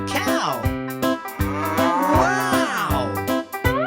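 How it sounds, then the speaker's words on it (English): A cow moos in a children's farm animal sounds activity, the drawn-out lowing repeating several times over bright, steady background music. "I see a cow."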